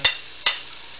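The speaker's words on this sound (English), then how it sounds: "Mix them around." Spices for chicken tikka masala (garam masala, salt, red pepper, turmeric, coriander, cumin) stirred in a hot pan, with two quick scraping sizzle strokes over a constant frying hiss.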